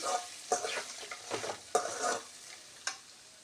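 Oil with curry leaves sizzles in a pan for a Kannada ivy gourd palya tempering, with scraping stir strokes cutting in at intervals over a steady frying hiss, fairly close.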